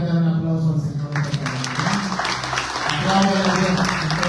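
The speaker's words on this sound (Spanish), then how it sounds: "¿Cuántos pueden dar un aplauso al Señor?" Applause from a church congregation during a Sunday service, starting about a second in and continuing as a dense spread of clapping beneath a talking voice.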